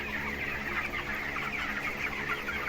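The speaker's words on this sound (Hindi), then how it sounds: "मुर्गी काफ़ी मज़ेदार से आराम कर रहे हैं।" Suguna broiler chickens on a poultry farm cluck and murmur continuously as a dense flock, with a steady soft din of many birds and no single call standing out.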